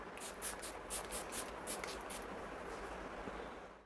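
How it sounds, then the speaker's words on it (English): A quick series of soft, rapid spritzes from a makeup setting spray bottle, about ten short bursts in a row, faint and close, over a low background hum. "Setting my face using the Mars Makeup Fix Spray."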